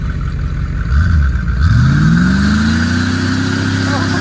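An old truck engine revs while reversing, a loud close rumble that swells as the revs climb steadily and hold high, running on its own throughout.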